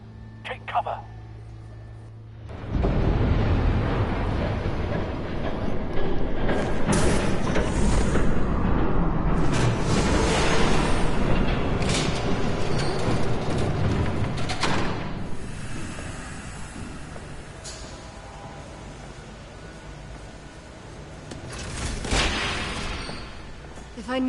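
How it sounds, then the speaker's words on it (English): Train rushing past in a Batman video game, a loud sustained rumble that swells abruptly, holds for several seconds, then slowly fades, with speech over parts of it. "There's a train coming. Take cover."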